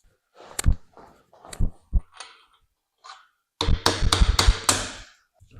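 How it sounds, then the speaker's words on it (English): A big mallet hammers parts into a sheet metal roller attachment, with scattered single knocks followed by a quick burst of several heavy blows, close and loud, with silence between. "Get a big mallet and hit them as hard as you can."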